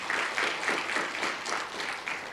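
Church congregation at a Sunday service clapping for God in rhythmic unison, about nine regular beats of moderately loud applause.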